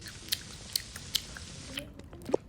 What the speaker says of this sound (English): Still chewing loudly.